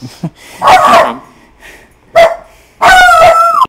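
A dog barks close and loud in a home: a short yip, then a couple of sharp barks spaced over a few seconds, the last one longer and more strained.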